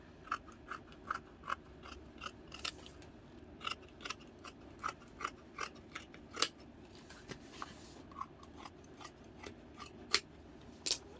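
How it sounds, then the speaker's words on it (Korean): Scissors snipping through fabric while cutting pieces for a baby's top-and-pants set, a steady run of crisp, close snips spaced about half a second apart, with no talking. "똑같이 대고서 한 장 더 이렇게 잘라주세요."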